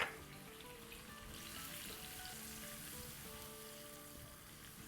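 Potatoes fry with turmeric and Kashmiri red chili for a yogurt-based aloo sabzi, giving a faint, even sizzle throughout with no talking.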